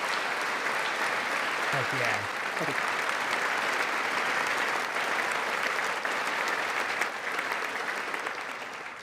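Sustained applause from a large crowd in a hall during a State of the Union address, dense and steady throughout with a brief spoken exclamation early on.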